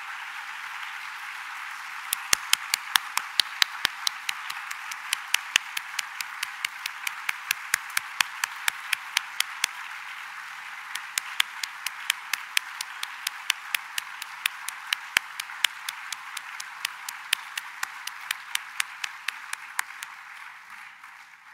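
A graduation convocation crowd gives a sustained round of applause, a bright continuous patter of many hands with a few sharper individual claps standing out, steady for about twenty seconds before tapering slightly at the end.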